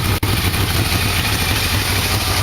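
A Yamaha V-Max motorcycle engine idles steadily after a carb sync, a close, loud and even low rumble that runs unbroken apart from one tiny dip near the start.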